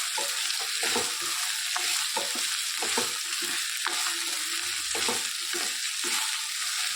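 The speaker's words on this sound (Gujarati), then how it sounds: "ડાયરેક્ટ ભીંડા નાખીને આપણે સરસ શેકી લઈએ" Okra (bhindi) frying in a pan with boiled potatoes, a steady loud sizzle broken by repeated scraping stirs of the spatula, close up and without talk.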